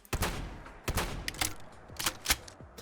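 A shotgun in Fallout 4, fitted with a weapon mod, is reloaded in the video game: about six sharp, close metallic clacks land at uneven intervals over a few seconds, with no speech.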